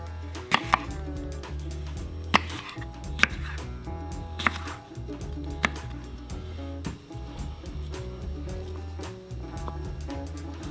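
A knife slices through an apple on a cutting board, several crisp chopping knocks spaced a second or two apart, close and distinct against a quiet background.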